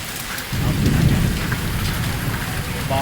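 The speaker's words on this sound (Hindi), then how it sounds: "बादल के गरजने की आवाज़।" Thunder rolls low and heavy during a hailstorm with steady rain, a deep rumble swelling after half a second and lingering under the constant hiss of falling rain and hail outdoors.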